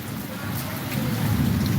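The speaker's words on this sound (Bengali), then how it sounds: "বৃষ্টির গতি বাড়তেছে" Rain grows heavier, a dense steady patter that builds in loudness toward the end, with faint talk underneath.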